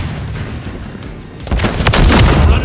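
A stun grenade detonates in the Call of Duty video game, a loud booming burst about halfway through that rolls on with dense, noisy roar after a quieter stretch of background game ambience.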